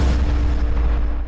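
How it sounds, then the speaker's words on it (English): A Tesla car blown up with explosives at a former quarry, heard as one loud, deep boom that rolls out into a long rumbling decay. "The explosion at a former quarry"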